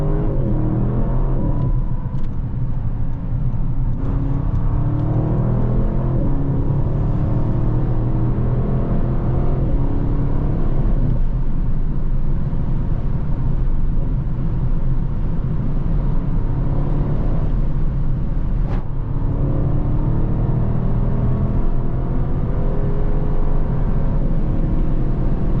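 Sports car driving at full power on the German Autobahn gives a steady, loud engine rumble and road roar that holds constant throughout, with no talking.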